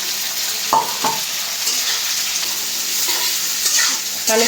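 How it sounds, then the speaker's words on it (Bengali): Long-cut potato pieces fry in hot oil in a village kitchen, following already-fried onion, giving a steady loud sizzling hiss with several scraping stirs of the pan throughout. "এখন তেলের উপরে আলুটা একটু ভেজা দিই"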